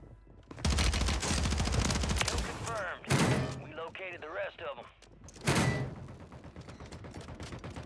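Rapid automatic gunfire from an RPK light machine gun in the battle royale game Warzone 3 on Rebirth Island, loud bursts in dense clusters with short gaps, over game effects and a voice talking.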